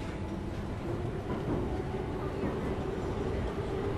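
Steady low rumble of a long train ride in the sci-fi horror game Soma, a continuous droning hum with faint rattling that holds at a constant level throughout without pause.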